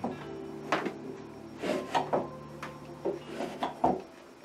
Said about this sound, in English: there are four drawers in total